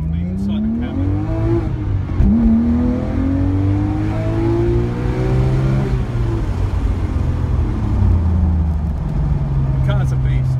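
Engine of a 2008 Porsche 997 GT3 from inside the cabin, revving up through rising pulls and easing off, loud and steady with road noise underneath.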